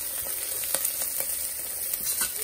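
Seeds popping and sizzling in a hot frying pan while making marinara, a steady close hiss broken by sharp, irregular pops and crackles over a couple of seconds.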